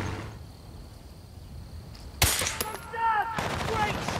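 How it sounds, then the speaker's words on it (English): Suppressed weapon fire in the video game Battlefield Bad Company, a few muffled shots and clatter coming in abruptly partway through over a quiet game backdrop, with faint in-game voices. "Oh, I mean a suppressed weapon."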